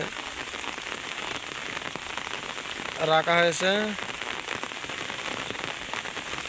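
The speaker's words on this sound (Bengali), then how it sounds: "যেহেতু বৃষ্টি হচ্ছে তাই গাড়লগুলোকে এভাবে মাঠের মধ্যে বাগানের ভিতরে" Steady rain patters on surfaces in a field with sheep, with a brief spoken phrase rising over it midway.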